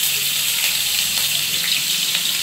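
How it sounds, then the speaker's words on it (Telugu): Chopped onions and green chillies crackle in hot oil, a dense, even frying hiss that holds close and steady throughout, with no voices. "ఈ నూనెలో ముందుగా తరిగి పెట్టుకున్న ఉల్లిగడ్డలు, పచ్చిమిర్చి అండి, పచ్చిమిర్చి అండి ఇలా వేసిస్తాను నూనెలో"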